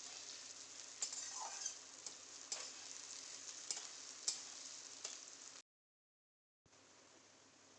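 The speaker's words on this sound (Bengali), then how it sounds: "পেঁয়াজের সাথে আলুটাও দিয়ে দেবো, দিয়ে এটাকে ভাজবো ভালো করে।" Chopped onion and potato fry in a hot pan, a steady close sizzle with occasional light stirring clicks, cutting out briefly before the frying hiss returns.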